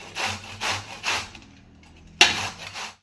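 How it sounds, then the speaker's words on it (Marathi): Cabbage rubbed down a coarse grater for veg Manchurian makes loud rhythmic rasping strokes, three steady passes, a pause, then a sharp fresh stroke close by, with no talking. "या ठिकाणी आपला कोबी किसून झालेला आहे"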